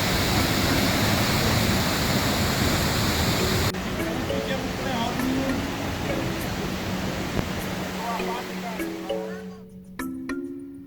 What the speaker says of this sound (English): And man, was the waterfall big.